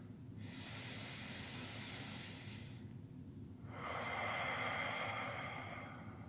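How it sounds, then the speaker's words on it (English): Two deep breaths during a stretching session, a long airy inhale through the nose followed after a short pause by a slower, louder exhale through the mouth, close and alone without talk. "So big breath in through your nose"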